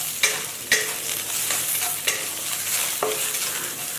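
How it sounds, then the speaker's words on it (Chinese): Fried fish scales stir-fried in a dry wok with minced garlic, dried red chili pieces and chopped scallion, giving a steady close sizzle broken by several sharp scraping strokes of the spatula, with no talking. "放入炸好的鱼鳞，加上蒜末和红干椒段，再加上小葱末，炒出香味。"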